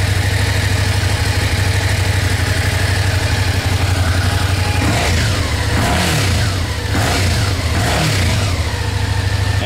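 A 2011 Suzuki SFV650 Gladius LAMS motorcycle with a Yoshimura exhaust idles steadily at about 1,500 rpm, then is given a few short revs to about 3,000 rpm on a cold engine, each rise and fall loud and close.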